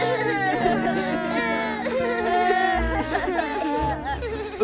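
Cartoon baby penguins cry and wail in loud, high, wavering sobs close up, with several overlapping voices crying continuously.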